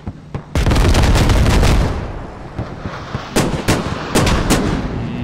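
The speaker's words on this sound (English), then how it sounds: "See if they can hit this airstrike." Airstrike in the game Squad, a loud roaring blast of explosions followed by scattered booms and cracks that fade into softer distant impacts, with no voices.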